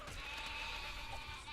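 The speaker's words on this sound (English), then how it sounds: "I hear the bleating of lesser creatures" Sheep bleat in the video game Overlord, a steady wavering call set against a dense, continuous game background.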